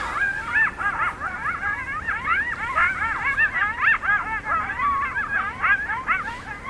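A chorus of high yips and wavering howls from several coyotes carries from a distance up a hill, overlapping in rapid, excited bursts.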